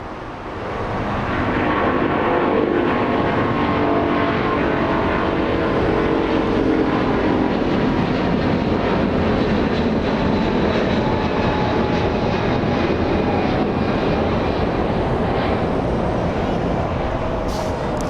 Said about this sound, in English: For now, all of our attention is directed to this 777, powered by Pratt & Whitney 4000 engines. Amazing sound coming right up.